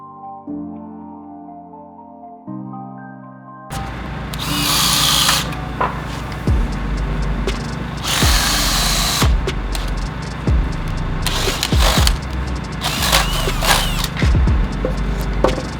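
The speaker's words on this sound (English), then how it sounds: "from there you can drill out precisely" A power drill bores anchor bolt holes through a wood wall plate during first-floor wall framing, with repeated loud whirring bursts of a few seconds each, separated by short pauses and faint handling noises.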